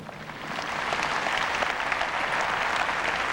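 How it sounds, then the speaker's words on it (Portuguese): Steady applause from an Olympic equestrian crowd at the Sydney 2000 show-jumping for a Mexican rider, Santiago Lambré, a dense, even wash of clapping heard alone at moderate distance. "Aplaudido o mexicano"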